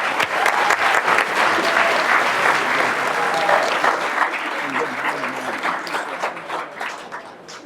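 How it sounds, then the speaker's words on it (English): Audience applause at a city employee longevity ceremony, a sustained dense clapping from a crowd that holds steady for several seconds before thinning out toward the end. "let's give them one more round of applause"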